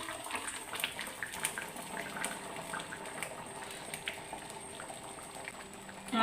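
Raw banana curry (pacha nenthrakkaya) boiling in a pot, a faint, steady bubbling simmer with light irregular pops, continuous throughout and with no voices.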